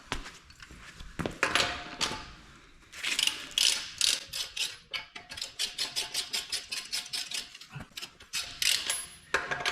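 Ratchet wrench loosening wheel lug nuts on a 2016 Honda Pilot in a garage, with rapid repeated clicking bursts of varying length, close and clear, separated by brief pauses.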